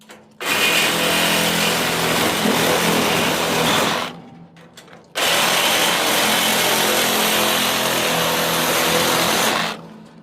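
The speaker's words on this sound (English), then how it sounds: "the cutting disc on a grinder" An angle grinder fitted with a cutting disc slices through a metal crate in two long, loud, steady bursts of harsh broadband grinding, separated by a brief pause near the middle.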